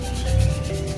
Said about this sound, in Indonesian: kita ratakan, kita amplas lagi seperti ini hingga warnanya putih